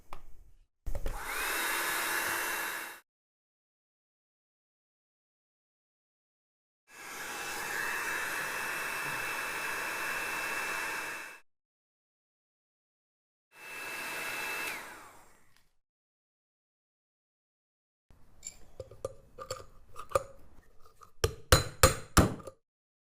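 A hot-air heater blows on a café racer wheel rim to loosen a bearing, coming in three steady roaring bursts separated by silence, followed by sharp metallic clinks and taps.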